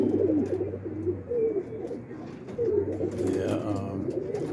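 Pet pigeons, including cock birds out of the coop, give repeated low, throaty coos close by, rolling and overlapping in a steady murmur with some faint rustling.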